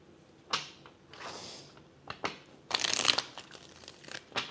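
Several separate bursts of riffling and flapping paper, cards being shuffled in quick handfuls with short pauses between, close by.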